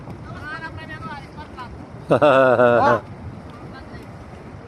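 A boat motor runs on open water as a steady low drone mixed with wind buffeting the microphone, while people talk over it and one loud shout briefly rises above the engine.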